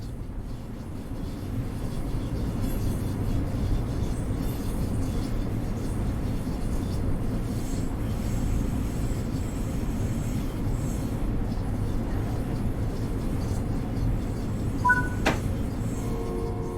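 A Long Island Rail Road commuter train in the video game Train Sim World 6 rumbles steadily along the rails with a constant low roar, a brief squeal and chime near the end.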